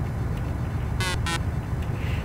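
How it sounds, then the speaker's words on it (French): A truck's air horn in Euro Truck Simulator 2 sounds two short, loud blasts in quick succession over a low, steady engine rumble. "Ça, c'est de la trompe, ça."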